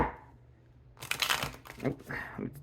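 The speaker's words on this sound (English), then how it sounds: "Shuffle these just a few times" Cards being shuffled: a short run of papery riffling and crinkling bursts close by, following a quiet pause.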